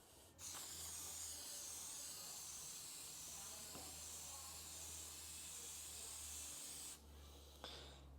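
Aerosol can of K&N filter oil sprays steadily onto the pleats of an air filter from a 2007 Subaru WRX, a continuous close hiss lasting several seconds before stopping, followed by a brief short burst.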